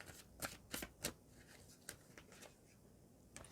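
Tarot cards are shuffled and laid out on a table in a quiet room, with sharp riffles in a cluster at first and then sparser single snaps and taps, all faint.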